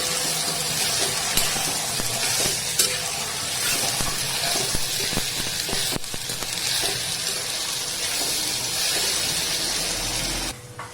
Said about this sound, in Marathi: बटाटा टाकून घेऊया आणि ते छान तेलावर परतून घेऊया